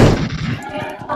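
Gunfire in the video game PUBG, a quick burst of several sharp shots in rapid succession with a faint voice underneath.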